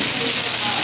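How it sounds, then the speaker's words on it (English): Spicy squid and pork belly sizzle on a hot plate in a Korean restaurant, a loud, steady, close hiss with no break. "Do you not see it sizzling?"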